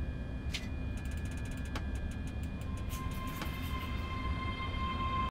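Cab controls from a Class 385 train simulator, with reverser and throttle sounds borrowed from the Kuju Class 450: repeated ratcheting notch clicks and clunks over a steady low cab hum, ending in a brief high tone.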